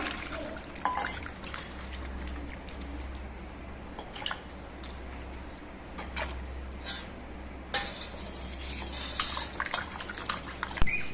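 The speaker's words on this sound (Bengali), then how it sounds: "এবার আলুগুলো ধুয়ে পরিষ্কার করে নিচ্ছি" Thick-cut potato pieces are washed by hand in a bowl of water, with sloshing, trickling water and clinking knocks against the vessel close by.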